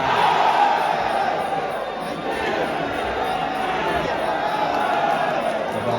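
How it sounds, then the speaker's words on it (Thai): A loud crowd roars and cheers steadily at a Muay Thai boxing match, Fah Wan Mai versus Nam Phu, the dense noise swelling early then holding, with a commentator's voice running over it. "เสียงเชียร์ดังขึ้นมาอีกครั้งหนึ่งครับ"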